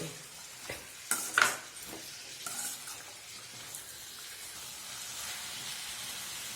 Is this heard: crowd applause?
no